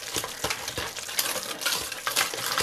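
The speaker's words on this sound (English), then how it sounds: "I'm going to give this a nice mash." Sweet potatoes mashed by hand in a bowl with sugar and vanilla: a steady run of soft, wet squelching strokes with light scraping, close and continuous, no voices.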